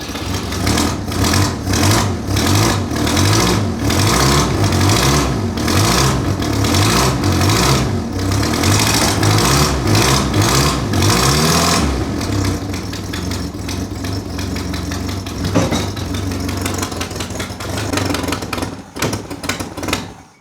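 A Renault 6 engine running steadily while warming up after a revival, loud and close with a rough rhythmic idle and rattling throughout, easing slightly partway through.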